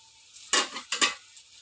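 Bitter gourd fries in a pan that has been covered. A quiet sizzle sits under two sharp bursts of stirring and metal scraping close by. Nobody speaks.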